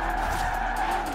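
Tires of a tuned 1,074 hp Shelby GT350R skid and squeal in Forza Horizon 4, a sustained, loud screech over the engine's steady drone, with no talk.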